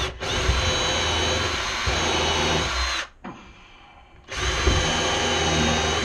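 A power drill drives screws into a table clamp setup in bursts: a loud whirring run, a short pause, then another run, all close up with no talk.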